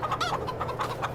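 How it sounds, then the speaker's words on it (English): A large flock of chickens, some 360 birds, clucks inside a coop in the Farming Simulator 22 video game, a dense, continuous and fairly loud chorus. "There's 360 chickens in there."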